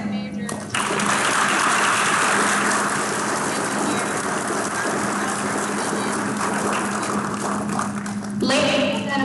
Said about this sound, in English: please join me in a round of applause for our distinguished guests